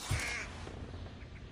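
A bird in the Thief video game gives one short, harsh caw at the start of an attic scene, then only faint background ambience follows.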